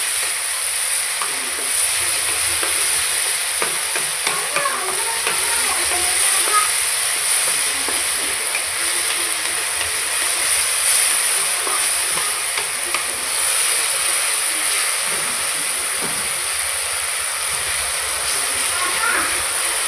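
Tomatoes and masala with salt cook in a pan for aloo methi, giving a steady soft sizzle and hiss with occasional stirring scrapes, while a person talks over it.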